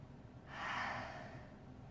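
A single deep breath during a yoga session, a soft airy exhale swelling and fading over about a second, close and quiet against a faint room background.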